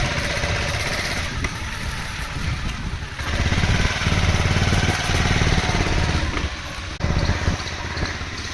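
A motorcycle carrying three riders drones steadily throughout, loud and close, with a rough low rumble and a brief shift in pitch partway through.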